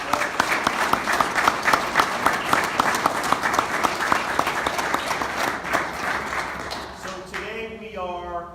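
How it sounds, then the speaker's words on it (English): An audience at a stadium upgrade announcement gives the staff a round of applause, loud sustained clapping with sharp individual claps standing out, tapering near the end as a voice begins speaking. "So why don't we give the staff and John another round of applause."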